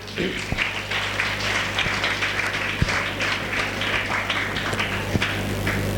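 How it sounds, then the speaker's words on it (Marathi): An audience at an inspirational speech bursts into applause, a dense spread of many hands clapping that fills the room evenly throughout, with a low hum beneath. "आधी हिच्यासाठी टाळ्या वाजवा, मग मी सांगतो."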